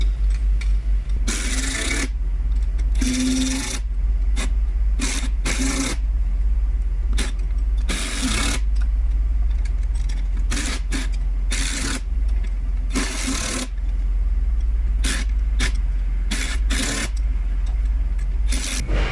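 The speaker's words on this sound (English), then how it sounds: "I'm just gonna snug it in with the gun" An impact gun snugs the bolts on a TMR weld-on beadlock fitted to a 15-inch Pro Comp steel wheel, firing a dozen or so loud, rattling bursts of varying length, each close by and separated by short pauses over a steady low hum.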